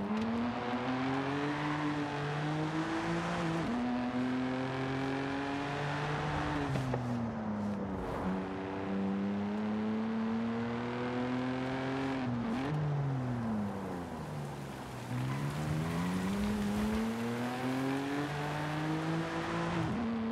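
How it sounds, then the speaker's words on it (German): A BMW M2 drives in Forza Horizon 5 during an autumn storm season, its engine droning steadily with rising and falling revs and gear shifts, loud and continuous throughout with no talk. "Ich fahre mal ein paar Meter"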